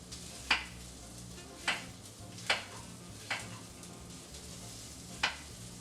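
Sausage being cut up in a frying pan as it cooks, five sharp scraping clicks of a utensil against the pan at irregular intervals over a soft steady sizzle, close and fairly quiet.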